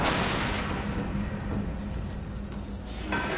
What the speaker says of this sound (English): That's a giant explosion.